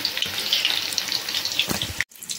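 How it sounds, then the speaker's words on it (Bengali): Cabbage rolls fry crisply in a pan of hot oil with a steady, close hiss and crackle that runs for about two seconds, then cuts off abruptly before resuming more quietly. "এই পাশটা ভালোভাবে মুচমুচেভাবে ভাজা হবে"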